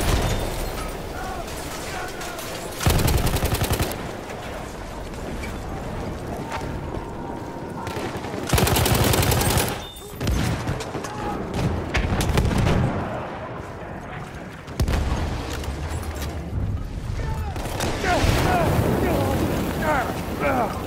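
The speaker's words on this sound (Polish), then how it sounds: "Granat poszedł, uważać na głowę!" Battlefield 1 combat: a grenade blast and rolling gunfire with artillery-like booms, loud and dense, in bursts around 3, 9 and 15 seconds over continuous battle noise, with voices shouting over it.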